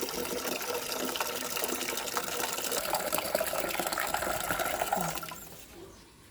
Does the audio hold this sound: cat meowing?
no